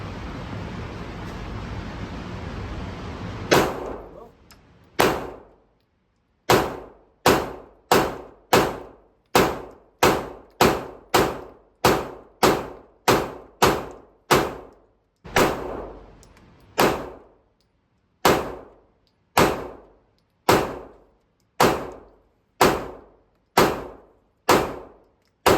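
Ruger RXM pistol fired in a long string of sharp, loud single shots, about twenty reports at a steady pace with short gaps, after a stretch of broadband background noise.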